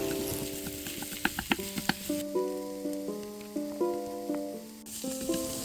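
Sliced onions caramelize in a pan with a soft, crackling sizzle and light stirring taps, heard under gentle melodic background music.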